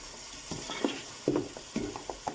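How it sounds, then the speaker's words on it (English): A spoon scrapes and turns mutton coated in curry powder, jeera and turmeric in a pot, several uneven stirring strokes with soft clatter over a low sizzle, close up and moderately quiet. "my curry powder, my jeera, and my turmeric all at once. So, and give this a good stir."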